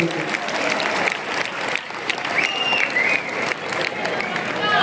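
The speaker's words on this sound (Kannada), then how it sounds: "ಮಿಲಿಟರಿ ಬ್ಯಾಂಡ್ ಅವ್ರಿಗೊಮ್ಮೆ ಜೋರಾದ ಚಪ್ಪಾಳೆ" Loud crowd applause for a military band at a college inauguration ceremony, dense continuous clapping with a few brief dips, filling the whole stretch with an audience murmur underneath.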